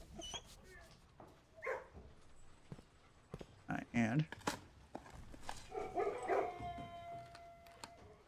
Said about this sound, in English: with the kennel active, whenever you dig, you get the sound of dogs